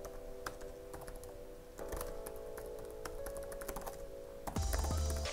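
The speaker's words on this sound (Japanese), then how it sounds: "今ちょっとタイピングをしてみたんですけども、まあ、タッチ感も自然なので" Steady typing on the keyboard of a DAIV S4 Windows laptop with RTX 4060 graphics, a continuous close patter of key clicks with brief denser bursts, ending in a louder thud.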